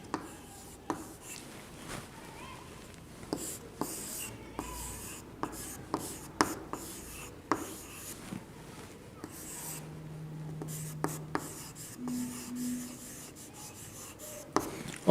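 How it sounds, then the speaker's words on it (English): Chalk or marker strokes scrape across a classroom board in short rhythmic bursts, each word a cluster of quick taps and rubs at moderate distance, with brief pauses between and no talk. "3 words I written on the board."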